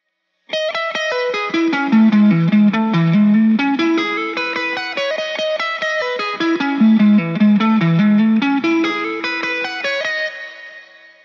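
An electric guitar plays fast, clean arpeggios from a song, with bright cascading notes in a repeating climbing and falling pattern, close and steady, with no talking.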